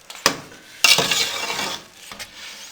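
Halwa with finely chopped dates is stirred in a pot, giving scraping clinks of a spoon against the metal, one sharp knock and then a longer rustling stir close by.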